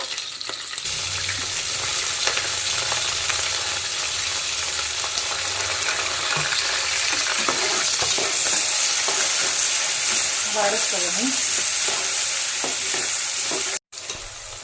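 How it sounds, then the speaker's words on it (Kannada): Green chillies and onions frying in hot oil for an egg biryani, a loud, dense and continuous sizzle heard up close throughout, with faint scraping from stirring and no talking. "ಎಣ್ಣೆ ಕಾದಿದೆ ಸೊ ಇದು ಮೆಣಸಿನ್ಕಾಯಿ ಹಾಕಿದ್ದೀವಿ ಮೆಣಸಿನ್ಕಾಯಿ ಸ್ವಲ್ಪ ಬಡ್ಸ್ಕೊಂಡಿದ್ಮೇಲೆ ಈರುಳ್ಳಿ ಹಾಕಬೇಕು"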